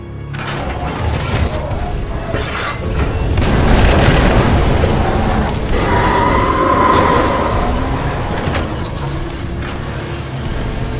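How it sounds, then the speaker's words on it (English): Heavy booming explosions rip through a complex in a Titanfall 2 game, a dense, loud rumble that swells over several seconds with rolling low-end blasts and mechanical debris noise, no talk. "a series of explosions just weakened the manipulator arm"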